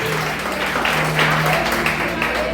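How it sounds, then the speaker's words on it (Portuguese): Church congregation applauding during a Pentecostal-style worship service, a steady wash of clapping with a sustained musical tone and faint voices underneath. "Pode baixar as mãos e aplaudir ao Rei Jesus."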